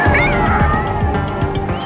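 A distressed little kitten trapped under a car bonnet meows repeatedly in short, urgent cries, close and fairly loud, with some background noise and a faint voice beneath.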